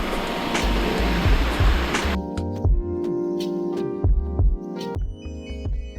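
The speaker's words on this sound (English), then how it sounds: "Are approaching the main lake of the Polylimnio Waterfalls." Rushing water of the Polylimnio Waterfalls in Greece, a steady broadband roar that is loud at first and then sits beneath clattering, knocking sounds close to the microphone.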